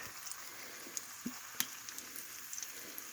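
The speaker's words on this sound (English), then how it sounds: "I just put my burrito right in on top. Right in there. And let her cook" A burrito fries in olive oil in a pan with a faint, sparse crackle of small pops and spits over a quiet hiss, heard alone up close.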